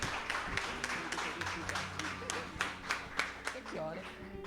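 A church congregation clapping in praise, a faint, scattered patter of hands in a rough rhythm, mostly under a voice speaking over them.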